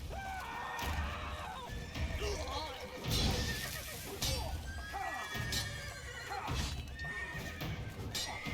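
Horses in The Witcher 3 neigh and whinny repeatedly amid clip-clopping hooves and game sound effects, with speech mixed in.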